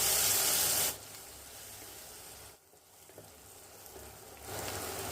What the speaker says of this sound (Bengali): পেঁয়াজটা দিয়ে নেড়ে ছেড়ে লাল করে ভেজে নেব।